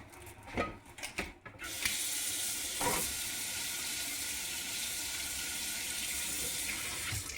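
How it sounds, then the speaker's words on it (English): Tap water runs steadily into a sink as a food can is rinsed under it, a continuous close hiss and splash, preceded by a few clunks and brief handling knocks at the start. "So I'm going to rinse it off."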